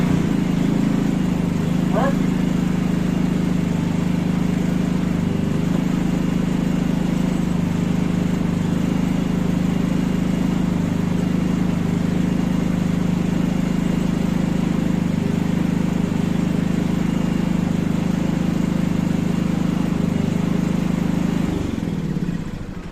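A Powerhorse Predator generator engine runs steadily close by after a no-start fix, a loud, even mid-pitched drone that holds for the whole stretch and then dips slightly at the end.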